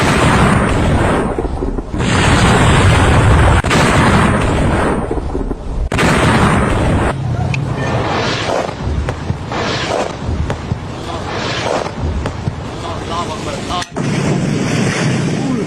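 Repeated heavy missile-strike blasts and booming bursts, loud and close, with roaring rumble between them and a dense, chaotic wash of noise throughout.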